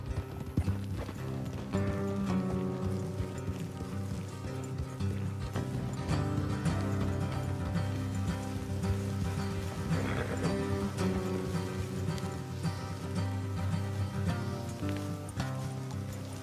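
Steady clip-clop of horse hooves at a walking pace in Red Dead Redemption 2, close and continuous, with a brief whinny and a dense tonal background throughout.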